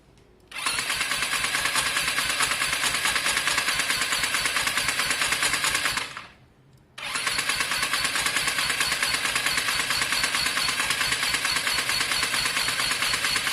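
Lexmoto Diablo 125 motorbike engine fires and runs loudly and steadily close by, cuts out briefly for under a second, then catches again and keeps running.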